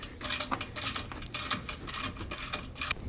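A hand tap cuts threads into a freshly drilled hole in a metal bumper support, with a steady run of ratcheting, grinding clicks close up and no talking.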